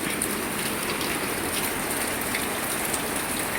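Steady rain pours down at dusk, a dense continuous hiss of drops on surfaces, close and even throughout with no voices.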